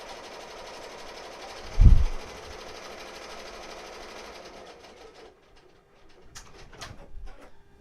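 An embroidery machine stitches a design in a rapid, steady mechanical whir, jumping around without changing needles; a loud thump comes early, the running drops off later, and birds coo faintly in the background.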